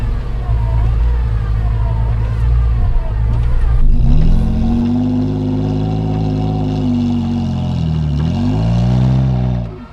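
An off-road overlanding vehicle revving as its wheels spin in deep snow during a winching recovery in a high-altitude snowstorm, a loud sustained engine whine that rises and falls, close up.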